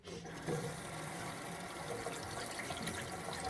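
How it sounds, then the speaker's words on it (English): Warm tap water runs steadily into a sink to wet a cloth for removing makeup, a close, even splashing hiss that carries on through the whole short clip. "I usually use the warm water to get it wet"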